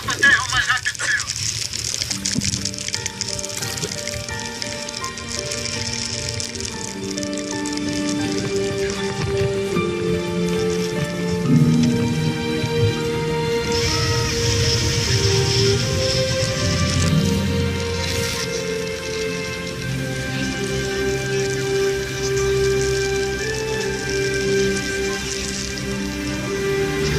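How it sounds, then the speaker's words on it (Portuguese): Heavy rain pours down at sea off Madeira and the Desertas, a loud, continuous hiss and patter on surfaces, with people talking over it throughout. "agora estava a chover a potes"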